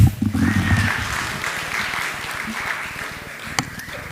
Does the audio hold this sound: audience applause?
yes